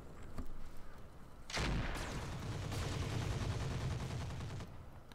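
Weapons open fire in Roguepoint: a sharp opening blast followed by a sustained rumbling barrage of gunfire lasting a few seconds, faint and distant in the mix before fading out.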